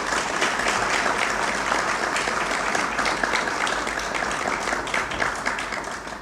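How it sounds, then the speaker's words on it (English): A warm round of applause from the audience at a 2018 school breakfast event for a student in the dual language program, steady and moderately loud throughout, with no talking over it. "we want to make sure we give her a big round of applause"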